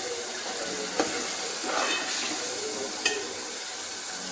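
Masala paste cooking in oil until the oil separates, a steady close hiss and sizzle with faint stirring and a couple of light utensil taps.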